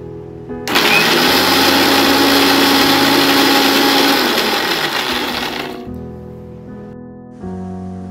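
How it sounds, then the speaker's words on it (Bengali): A mixer grinder blitzes biscuits into crumbs for a no-bake Biscoff cheesecake. It starts abruptly as one loud, steady whirring roar lasting about five seconds, sags slightly in pitch as the load changes, then cuts off, leaving quiet room noise. "তো তার জন্য মিক্সিতে বিস্কিটগুলোকে গুঁড়ো করে নিচ্ছি।"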